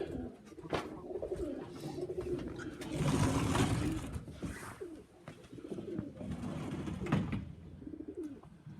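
Pigeons cooing steadily in a loft, a low, throaty murmur from several birds together close by, with occasional wing flutters and shuffling.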